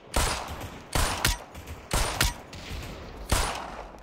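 Bursts of gunfire echo in the VR battle game Population: One, four loud rapid volleys about a second apart, each with a sharp crack and rumbling tail, close and alone without talk.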